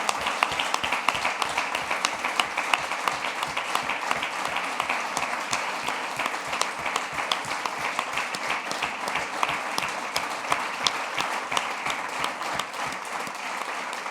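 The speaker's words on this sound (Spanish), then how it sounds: "Les pido un aplauso para ello" Crowd applause at a political party's state council assembly, a long, even stretch of many people clapping with a quick rhythmic pulse, moderately distant and without speech.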